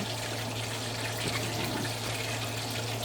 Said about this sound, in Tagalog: kumukulo na yung aking tubig para sa aking talbos kamote